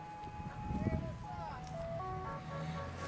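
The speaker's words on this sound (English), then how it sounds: "Let's let the ice cream truck pass." An ice cream truck goes by with its chiming jingle melody playing, fairly faint and distant, while voices speak nearby over a soft vehicle rumble.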